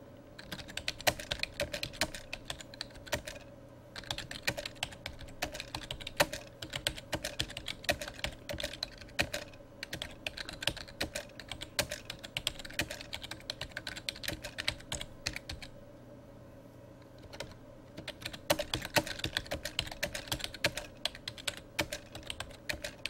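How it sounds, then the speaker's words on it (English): Steady typing on a computer keyboard while entering page content, a long run of rapid, close keystroke clicks broken by a few short pauses. "So let's go ahead and type some content."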